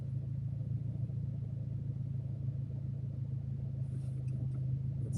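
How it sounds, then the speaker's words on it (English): Subaru WRX accelerating on a snowy city street, heard from inside as a steady low engine drone and road rumble, fairly quiet, with a few faint high ticks near the end. "let's do an acceleration test here"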